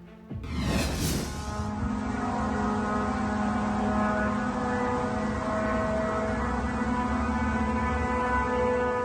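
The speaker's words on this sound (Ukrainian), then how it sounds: "Це звук реактивного дрона." A rising whoosh sweeps past, then a sustained high whistling drone with a low rumble from a jet-powered Russian Shahed drone in flight continues steadily, distant and unbroken.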